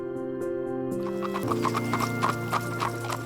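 A horse pulling an Amish buggy gives a rhythmic clip-clop of hooves, close and clear, with a steady humming tone underneath throughout.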